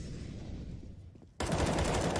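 Loud, continuous automatic AK rifle fire from a Counter-Strike match at IEM Beijing 2020 bursts in abruptly partway through, following a quieter stretch of muffled game ambience, and sustains to the end.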